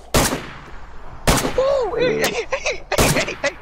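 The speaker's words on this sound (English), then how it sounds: "Fire 3 shots, those I hit one. Those bullets got really close." Three sharp, loud gunshots ring out in a DayZ firefight, spaced about a second apart, with bullets cracking close by and a voice reacting between the shots.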